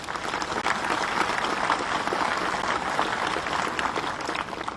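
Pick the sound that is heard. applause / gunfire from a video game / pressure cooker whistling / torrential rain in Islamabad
applause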